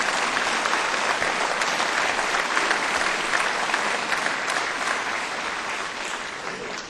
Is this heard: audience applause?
yes